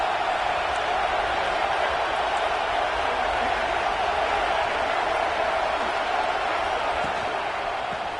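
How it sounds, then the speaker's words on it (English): An Ohio State Buckeyes football crowd roars on third down, a steady, dense wall of stadium noise heard from a distance and holding constant throughout. "The Buckeye crowd alive on 3rd down."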